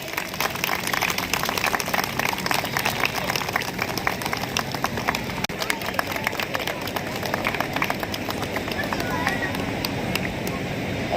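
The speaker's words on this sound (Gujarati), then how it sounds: "તાળીઓથી વધાવી લઈએ" A crowd at a Shito-Ryu karate federation ceremony claps steadily for the winners of an international karate championship, a sustained, even rattle of applause with a voice faintly underneath.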